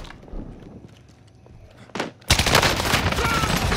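Gunfire in Call of Duty: Modern Warfare, a few thuds and a sharp report before a sudden loud sustained burst of close shooting that fills the rest of the clip.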